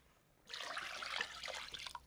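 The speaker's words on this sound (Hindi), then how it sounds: "ये देखो, एक डोंगा ये गया पानी का, और एक और" Water pours into a pot for cooking rice, a close splashing, gurgling stream that starts abruptly and runs steadily for over a second and a half, on a camping stove setup.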